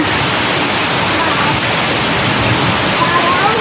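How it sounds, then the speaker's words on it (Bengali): Heavy rain pours down on a rooftop in a dense, steady roar, loud and close, with no break across the whole stretch. "জোরে বৃষ্টি হচ্ছে বল"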